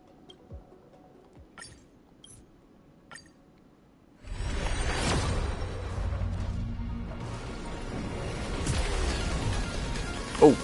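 A five-star gacha pull effect from Honkai: Star Rail bursts in loud and dense, a sustained shimmering swell after a few quiet clinks, holding steady with a sharp flourish near the end.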